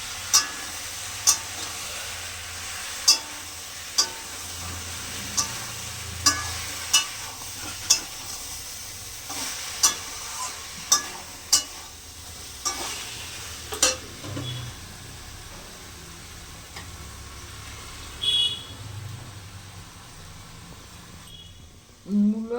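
Mixed vegetables sizzling in a pan as ginger and green chili paste goes in for a spinach-stem and radish chorchori, with a steady frying hiss and repeated sharp scrapes of a spatula stirring against the pan.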